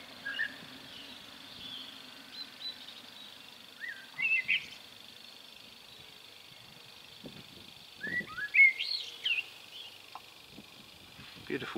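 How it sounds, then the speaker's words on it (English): Blackbird song along a country lane near a Hampshire pub, heard as a few short, fairly faint melodic phrases around four seconds in and again near eight to nine seconds, with quiet outdoor background between. "Beautiful blackbird song."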